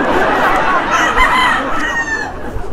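A fighting rooster at a game farm crows loudly and close, a long strained call that stretches across the whole moment with no talk.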